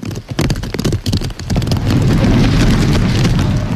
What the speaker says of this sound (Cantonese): 海怡半島亦都風大雨大